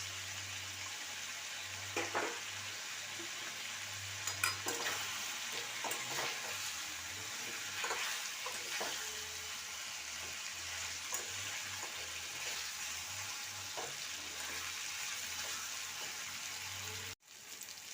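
Ginger garlic paste and fried onions frying in a pan for chicken korma, a steady close sizzle with occasional stirring scrapes throughout, then a brief cut near the end.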